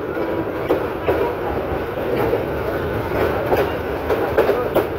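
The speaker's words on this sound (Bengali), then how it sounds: "এই যে ট্রেনটি একটি বাঁক নিচ্ছে, কর্ণফুলী কমিউটার ট্রেন।" The Karnaphuli commuter train rolls along the rails on a curve near Brahmanbaria College Para rail crossing, heard from inside the carriage as a steady rumble with rhythmic clickety-clack wheel beats.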